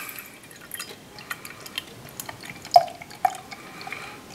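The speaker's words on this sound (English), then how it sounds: "usual glug glug glug of stout" Dugges Idjit! Imperial Stout, 9.5% ABV, being poured into a glass; a faint, quiet trickle with scattered soft drips and splashes, heard alone without talk.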